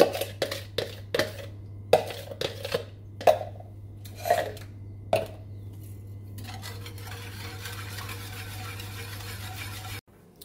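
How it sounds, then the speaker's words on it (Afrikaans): A custard mixture being whisked steadily into cold milk in a pot on the stove for a lemon custard cake, with sharp repeated clinks of the whisk against the pot, then a continuous softer stirring hiss with no talk. "dan voeg ons by die koue melk die vlaamengsel en dan gaan ek dit aanhoudend klits tot dit kook"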